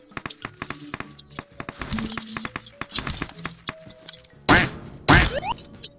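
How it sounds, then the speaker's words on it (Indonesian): In a video game, a run of sharp taps and thunks clicks along unevenly, then two loud, bright hit sounds burst out near the end as headshot impacts. "Sekarang headshot bunyinya satisfying tuh bunyinya."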